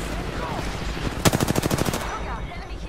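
Rapid automatic gunfire in a first-person shooter video game, a tight burst of about ten sharp shots lasting under a second, loud and close over a steady background hum.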